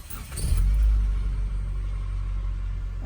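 A 2003 Mitsubishi Lancer ES engine, just after a PCV valve replacement, starts and settles into a smooth, steady idle: a low, even rumble heard close by under the open hood, with no voices.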